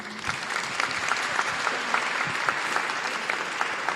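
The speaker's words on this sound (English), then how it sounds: "Let's give a round of applause for our panel on families, freedom, and the future of immigration justice." Steady, dense applause fills a conference hall for a panel on families, freedom and immigration justice at the Rainbow PUSH annual conference, many hands clapping evenly throughout with no voices.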